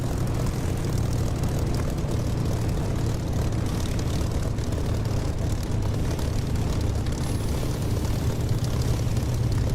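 A military aircraft in the DCS flight simulator taxis off the runway after landing, its propeller engine droning loudly and steadily throughout with no talk over it.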